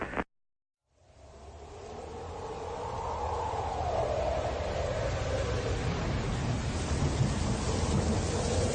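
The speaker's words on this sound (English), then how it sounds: "Do you hear the thunder?" After a short cut to silence, a deep thunder rumble rises and rolls on, growing louder and sustained, with a hiss like rain underneath.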